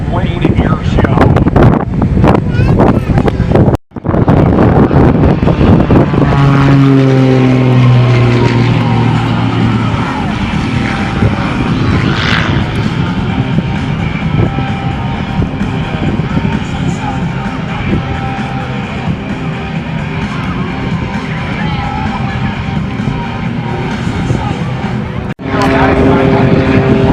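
A Thunderbirds jet roars overhead at the 2016 Fort Wayne Airshow, a loud sustained rush of engine noise with a sweeping pitch, buffeted by wind on the microphone while an announcer talks.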